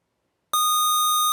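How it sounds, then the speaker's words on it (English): A quiz show buzzer cuts in after half a second of silence, a single loud, steady electronic tone that holds to the end. "That's after the buzzer."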